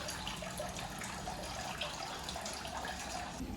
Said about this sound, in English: real honest hot spring water